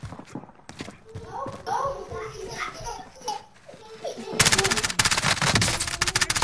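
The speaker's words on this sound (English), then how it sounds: "Taking fire!" Bursts of automatic gunfire in a Warzone match, quiet at first under players talking over voice chat, then a loud, sustained rattle of rapid shots near the end.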